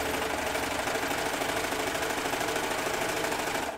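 A serger sews elastic onto a waistband, its motor running in one steady, loud, close buzzing whir for a few seconds before stopping, with no talking.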